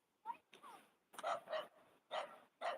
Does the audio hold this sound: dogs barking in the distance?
yes